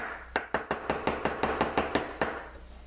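A hammer strikes a punch on an M9 pistol part, about ten sharp metallic taps in a quick, fairly even rhythm, close and crisp with no talk.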